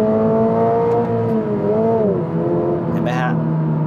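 A Toyota GR86 sports car accelerates, its engine note rising smoothly in pitch, then dipping and climbing again, heard from inside the cabin with someone talking over it.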